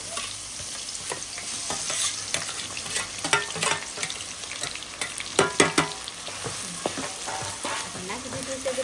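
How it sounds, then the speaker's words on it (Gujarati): Onion, ginger, green chilli and garlic paste fries in hot oil for a lobster dish, giving a steady close sizzle broken by scraping stirs and scattered louder clatters toward the middle. "તેલ ગરમ થઈ ગયું છે. તો એમાં સૌથી પહેલા આપણે નાખ્યું ડુંગળી, આદુ, લીલા મરચાં અને લસણની પેસ્ટ"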